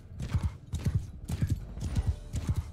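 Horse hooves gallop in Mount and Blade 2 Bannerlord, a rapid, steady clip-clop of repeated hoofbeat clusters, close and clear with no talk.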